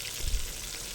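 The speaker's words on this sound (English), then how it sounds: "I just checked if it would sizzle once I added something, and it did. So I added the chicken." Steady, hissing sizzle of chicken frying in hot oil, close up and continuous, with a few soft pops.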